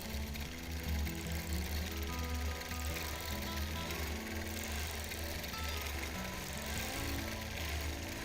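A quilting machine stitches in the ditch of a Double Wedding Ring quilt top, its loud, dense motor whir and rapid needle rhythm running continuously throughout without pause.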